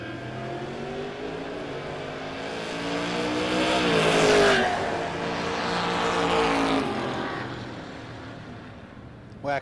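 2002 Camaro on a drag strip at a No Box 660 shootout: a far-off engine note climbs through rising gear sweeps, peaks loudly around mid-run, then fades, over a crowd murmur, with a brief knock at the end.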